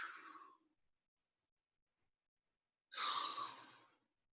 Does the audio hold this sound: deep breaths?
yes